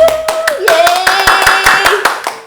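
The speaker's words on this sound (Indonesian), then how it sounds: "Tepuk tangan." A church congregation clapping hands at an online worship service, a brisk run of loud rhythmic claps over a sustained sung or spoken voice.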